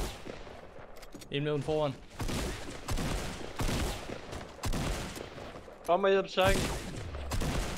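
Gunfire in the Fortnite video game: bursts of rapid shots under excited Danish voices calling out during a firefight, with loud clustered shot volleys recurring across the clip.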